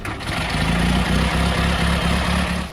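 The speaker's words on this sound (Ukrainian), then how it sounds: "Можна зафіксувати справжнє звучання машини." A vintage car engine recorded on the road, with no mufflers on the exhaust, runs with a raw, rough, low rumble that pulses steadily throughout, close and loud with no talking.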